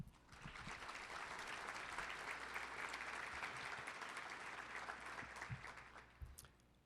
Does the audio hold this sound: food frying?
no